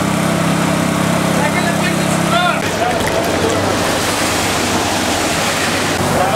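Floodwater gushing and splashing during torrential rain that has flooded houses and streets, a steady loud rushing wash heard close by, with a low motor-like rumble underneath for the first few seconds.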